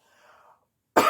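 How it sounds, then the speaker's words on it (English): One loud, abrupt cough bursts out near the microphone after a moment of faint, quiet murmuring. "I normally don't cough in my hand either."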